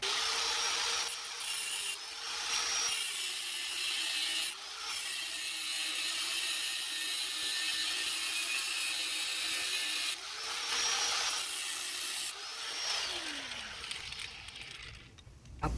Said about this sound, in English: Now I'm gonna go ahead and cut it.